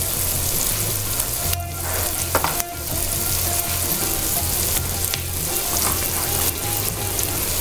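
Chicken tikka masala spices such as black pepper and cumin sizzle and fry steadily in a hot pan, a continuous close crackle with occasional stirring scrapes and no talking.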